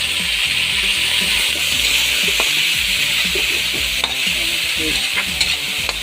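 Chopped tomatoes frying with onions in a pan for sarciadong salmon belly, a loud continuous sizzle with steady scraping and stirring strokes throughout, close and without talk.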